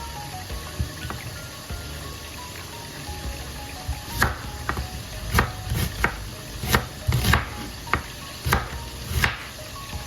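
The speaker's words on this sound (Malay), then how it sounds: "Ni kita potong bawang." Knife chopping onions on a board while preparing turmeric fried chicken, a run of sharp, close chops in an irregular rhythm that thickens midway, over a low kitchen hum with no talking.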